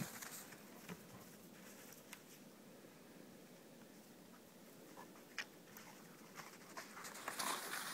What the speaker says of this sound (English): and that dog is going to go fetch.